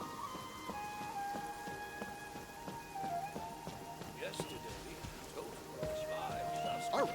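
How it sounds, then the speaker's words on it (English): Rain falling over a courtyard in the video game Genshin Impact, a light patter of drops heard under soft tonal game music, with occasional brighter splashes and a faint clip-clop. "I love listening to the rain from the courtyard"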